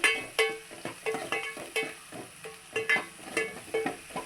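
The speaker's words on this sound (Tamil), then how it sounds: "வெங்காயம் எல்லாம் போட்டு நல்லா கலந்துட்டு" Onions sizzle in a hot pan while a spoon stirs them, giving a steady fry with regular scraping, clinking strokes about twice a second, close and moderately loud.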